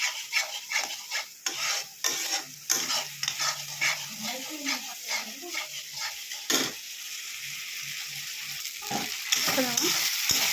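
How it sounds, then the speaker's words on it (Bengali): Water poured into spice masala frying in a pan for a Bengali shrimp and fish curry, giving a steady, loud sizzle with stirring and scraping throughout, with no voices. "এবার আমি এখানে জল দিয়ে দেবো"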